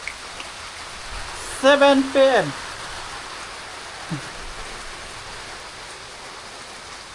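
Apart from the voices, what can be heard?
heavy rain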